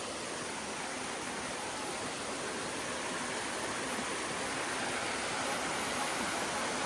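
Waterfall pouring in a continuous, even rush of broadband roar that stays at a constant level throughout, with no voices or other sounds.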